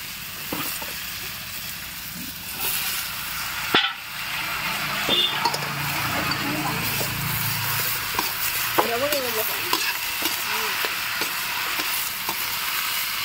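Bottle gourd and potato pieces fry in oil with turmeric, making a continuous close sizzle with scattered pops and a few stirring clatters.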